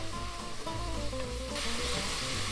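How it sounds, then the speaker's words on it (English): Onion, garlic and ginger fry in hot oil for a Durban curry cooked aboard a sailboat. A loud, steady sizzle runs throughout, close and continuous, with no talking. "I've added the onion and the garlic, and it's busy boiling up in the oil"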